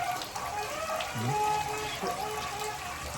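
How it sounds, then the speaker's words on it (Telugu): Water from the hills runs and trickles at a hillside temple, a faint continuous splashing flow with a few soft gurgles. "గుట్టల నుంచి వాటర్ వస్తాయి చూడండి."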